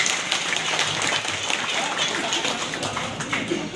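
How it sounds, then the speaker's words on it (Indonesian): Applause and clapping ripple through an audience at a PDI Perjuangan political gathering, where party branch officials are being installed, a dense crowd patter that stays even and fairly loud across the whole stretch, with scattered voices mixed in. "Tepuk tangan untuk kita semua."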